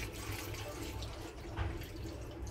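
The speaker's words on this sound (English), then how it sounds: "I'm adding just 1 cup of water" Water pours steadily into a cooking pot set over the fire while a Calabar dish is being prepared, a continuous close splashing stream with no talk.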